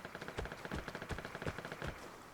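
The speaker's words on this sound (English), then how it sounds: "And some gunshots ring off near the sawmill." Rapid bursts of video game gunfire crackle in quick succession, muffled and distant near a sawmill, forming an irregular rattling series with no voices.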